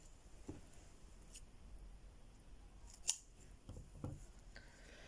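Scissors snip yarn during crocheting of a panda figure: a single crisp, close cut stands out among faint handling noises in a quiet room.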